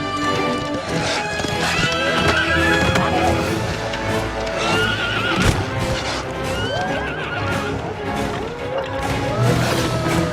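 Horse neighing during a wolf attack in an animated series, loud repeated whinnies and squeals over clattering hooves and scuffling crashes, a dense, frantic scene that continues for about ten seconds.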